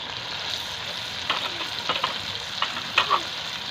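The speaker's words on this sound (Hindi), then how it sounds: "चंद सेकेंड फ्राई करना है" Green chillies fry with onions and tomatoes for beef korma, a soft, constant sizzle broken by several clinking, scraping stirs of the spoon in the pan.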